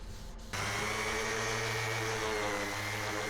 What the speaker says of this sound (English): The filling is hard and can be taken back with the sander.